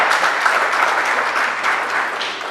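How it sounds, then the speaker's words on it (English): A gala and fundraising audience applauds a school principal, giving loud, close clapping that runs steadily throughout. "Please, a round of applause for her."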